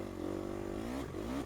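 Gas Gas EX250F four-stroke dirt bike engine in a motocross racing video game, a steady high buzzing drone that shifts pitch as it goes up a gear, loud and continuous.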